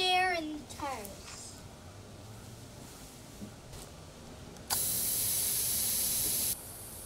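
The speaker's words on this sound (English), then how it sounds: "So we're going to check the air in the tires." Air hisses steadily from a snowblower tire valve during a pressure check, a loud, close, even spray lasting about two seconds near the end, after earlier faint handling noises and a brief high voice.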